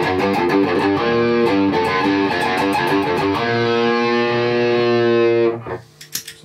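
Distorted electric guitar played through a Marshall AFD100 amp into Celestion Vintage 30 speakers rings out loud and close with sustained chords and picked notes, then cuts off near the end to a few quiet scratches.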